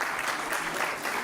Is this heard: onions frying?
no